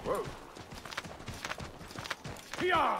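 Horse hooves clip-clopping in the Assassin's Creed 3 video game as a stubborn horse is steered down stairs, a run of uneven hoof clops with a brief whinny-like tone near the end, under a voice.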